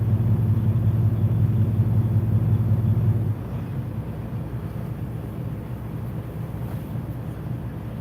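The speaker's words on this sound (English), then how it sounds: "Got a truck parked right here with his motor right beside my door." A truck engine idles close by, parked right beside a car door on a rainy Texas night, giving a steady low rumble that drops in level after about three seconds and then holds on.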